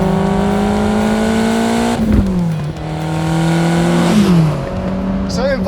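A Lotus Esprit with a twin-turbo V8 revs hard under throttle, the engine note rising steadily, dropping with a gear change, then climbing again, loud and close from inside the car.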